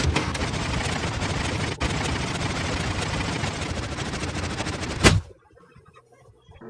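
End crystals in Minecraft detonate in a dense, continuous crackling barrage of rapid explosions that ends in one loud final burst before falling to near silence.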